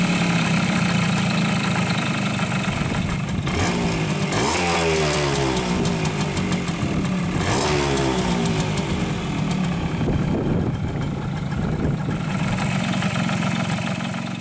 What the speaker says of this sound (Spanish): Arrancar el motor para que se precaliente plenamente.